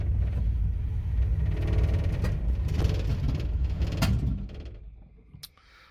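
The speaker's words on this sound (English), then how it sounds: "She's kind of backfiring" A 1987 Dodge Ramcharger running rough with a backfiring fault rumbles loud and low up close, with a few sharp pops breaking through before the engine note drops away near the end.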